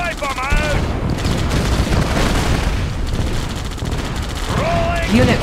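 Units open fire in a Red Alert 2 battle, with a dense continuous mix of gunshots and booms under unit voice lines and shouting.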